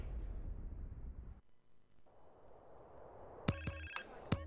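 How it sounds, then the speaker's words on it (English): A video game phone rings in Grand Theft Auto: San Andreas: a bright, sharp electronic ringtone in short repeated bursts, arriving after a stretch of muffled game noise. "I have a glitched phone call"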